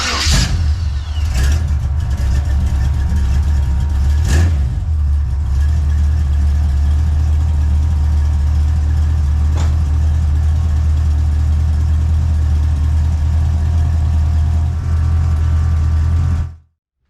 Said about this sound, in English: We'll give her a fire and let's see what it does with it fired off.